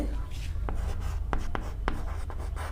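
A math equation for a Class 10 lesson is written by hand, producing a few brief scratchy strokes close by over a constant low background hum.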